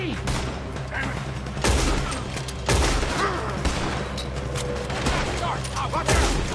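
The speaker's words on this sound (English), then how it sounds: "Why are they all shooting at me?" Heavy gunfire in the Western shootout game Red Dead Redemption: repeated loud shots and volleys crack in bursts over a continuous din, with voices shouting in between.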